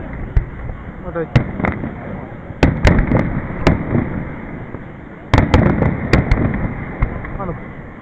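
Festival fireworks over the Shogawa area: scattered loud cracks and booms, a clustered barrage midway and another after a brief lull, with crowd chatter running beneath the explosions.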